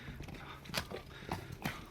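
A stallion and his herd of horses move about, with irregular hoof thuds and clip-clops at close to mid distance, a few sharper hoof strikes standing out over a rumbling background.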